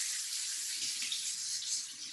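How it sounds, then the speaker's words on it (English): Warm water runs from a sink faucet in a steady, bright hiss that stays constant and fairly close for the whole stretch, with no talking. "I want to cut the water onto a good warm temperature."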